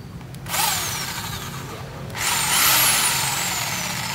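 A compact Bosch handheld hammer drill with a 13 mm auto chuck runs at variable speed, its whirring motor whine swelling, dropping briefly, then revving higher again, close and loud with no talking.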